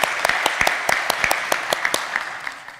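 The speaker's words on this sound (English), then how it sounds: "Just let's give them all a wonderful applause." Staff at an annual meeting receive applause: a steady wash of clapping from a modest crowd with sharp individual claps popping out at a regular pace, fairly close and continuous throughout.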